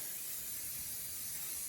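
A steady, breathy hiss of an aerosol coconut oil cooking spray, continuous and fairly close for under two seconds, with no voices.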